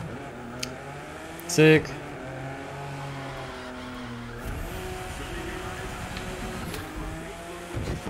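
A BMW in the video game The Crew 2 drives with a steady engine drone and rising revs, a tire squeal and a sharp click near the start, while someone talks over it.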